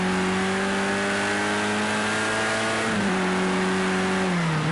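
A Caterham Lola race car engine in Project Cars 2 drones steadily at high revs, its pitch dipping briefly around gear changes, loud and continuous with no voices.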